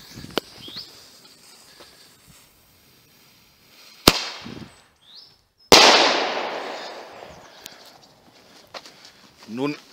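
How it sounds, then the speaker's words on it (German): A flashbang firework goes off outdoors: a sharp crack, then a second loud bang followed by a long, decaying crackling hiss, with faint bird calls and small knocks around it. "Flashbang Weko."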